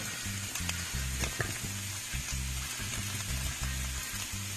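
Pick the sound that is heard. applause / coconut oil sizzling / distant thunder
coconut oil sizzling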